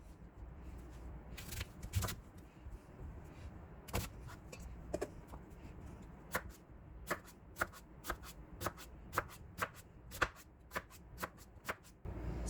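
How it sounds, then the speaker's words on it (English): A knife slices radish into bite-sized pieces for seokbakji kimchi, making crisp, sharp chops on a board that settle into a fairly regular rhythm, close and clear. "Cut the radish into bite-sized pieces."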